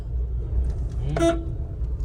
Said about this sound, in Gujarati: આ હોરન જો